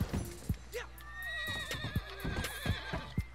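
Horse whinnying in Red Dead Online, a long quavering neigh near and clear, with scattered clip-clop hoof thuds and someone talking over it.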